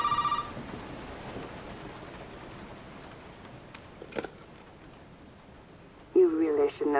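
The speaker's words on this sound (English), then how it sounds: "let's go answer the phone then real quick" A telephone rings in the horror game Resident Evil 7, an electronic trill that starts the stretch and returns near its end, loud and close, over a steady rain-like hiss of background ambience.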